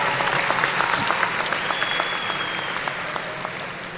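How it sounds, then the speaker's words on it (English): Graduation ceremony audience applauding the band and choir after their performance, a dense, steady wash of clapping in a large hall that gradually thins over four seconds. "And another round of applause for band and choir for such a beautiful performance"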